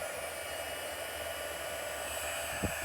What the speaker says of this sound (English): Get my heat gun kind of warmed up